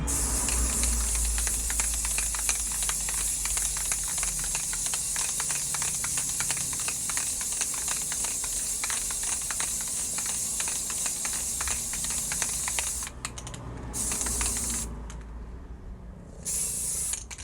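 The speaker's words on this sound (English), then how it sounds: "So you just want to just spray the whole thing." Steady hissing spray onto a tumbler runs continuously for a long stretch, close and loud, briefly stopping and restarting near the end.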